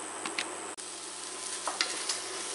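A chicken and mushroom filling cooks down in a pan with a steady soft sizzle, a few light spoon scrapes and clicks, and a brief drop near the start; no voices.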